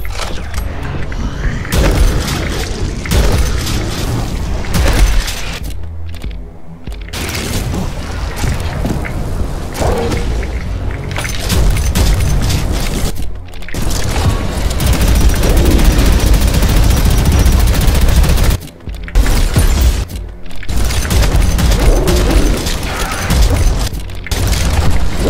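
Loud, near-continuous shotgun blasts and explosions sound from the first-person shooter Prodeus on the custom map Altitude at Ultra Hard difficulty, with only brief gaps between bursts.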